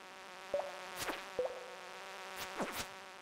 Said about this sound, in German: Das ist bestimmt so eine Bremse.